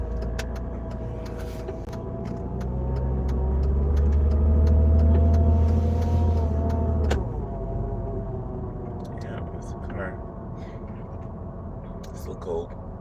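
A 2010 Dodge Grand Caravan pulls away from a traffic light, its engine rumble swelling to a peak mid-way then easing into steady cruising, with someone talking over it throughout.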